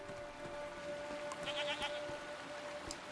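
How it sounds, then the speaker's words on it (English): Goat-like creatures bleat in Season: A Letter to the Future, a couple of short calls rising over a steady ambient game soundscape with a sustained tone, moderately near. "What are these strange goat-like creatures?"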